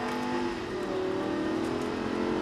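A Lamborghini on a driving course accelerates hard, its engine note rising steadily over a couple of seconds, heard from inside the car at moderate level with no talk.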